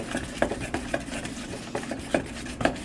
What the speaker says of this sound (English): Now we're going to mix this together here.